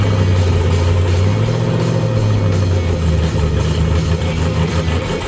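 A car engine runs steadily close by after an exhaust repair, its low rumble shifting slightly in pitch as it idles and settles, with no talking.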